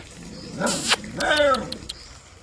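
A dog gives two short, close vocalizations, a brief bark followed by a whiny, drawn-out yelp.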